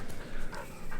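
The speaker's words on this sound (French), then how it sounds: "Le chien qui est déjà réveillé." A dog that has just woken up pants quickly and breathily close to the microphone, with a rhythmic huff-huff pattern and faint snuffling over about a second.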